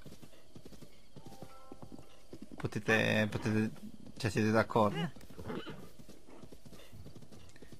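A horse clip-clops along in The Legend of Zelda: Breath of the Wild, with quick hoof beats and a whinny under someone speaking Italian in a loud voice.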